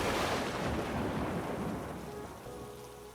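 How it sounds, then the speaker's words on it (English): Steady rain falling outside as a dense, loud wash of hiss and patter, heaviest at first and gradually softening, with no voices over it. "with the rain steady outside"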